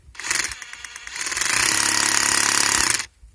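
A DeWalt DCH133 cordless rotary hammer drills into rock, loud and close: a brief burst of hammering, a short pause, then about a second and a half of rapid, steady, forceful pounding before it stops.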